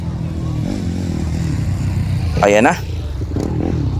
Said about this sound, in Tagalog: Medyo malaki ang motor dito kay Grace.